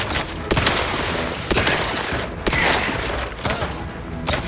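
Sustained automatic gunfire in The Outer Worlds 2, loud dense bursts with repeated sharp shot transients across the whole span, no talk.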